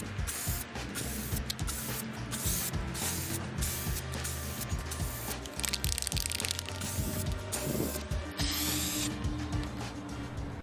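Filler primer hissing from a spray can onto a masked cardboard Captain America shield, a steady broadband spray in repeated bursts with brief pauses, close and fairly loud, with no talking.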